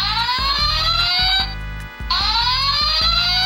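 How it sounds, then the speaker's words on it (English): An electronic alarm from a 1990s Talkboy watch toy wails in rising sweeps over a pulsing beat, cutting out briefly before starting again, loud and close. "So an alarm, or, you know, just wacky 90s sounds"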